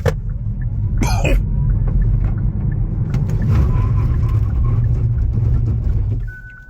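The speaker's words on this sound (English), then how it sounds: "full acceleration and full ABS braking test" A Hyundai Ioniq 6 AWD Long Range electric car accelerates hard, with a loud, sustained rumble of road and wind noise building and a brief cough-like burst near the start before the sound drops away at the end.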